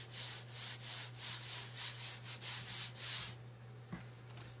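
A hand rubs rhythmically over a board coated with Mod Podge, about a dozen soft, close swishing strokes in a steady back-and-forth pattern, then a few quiet taps and a faint click after the rubbing stops.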